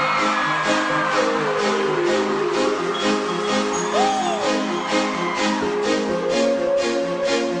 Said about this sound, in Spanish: fuerte aplauso al nominado por el tema Cuando me enamoro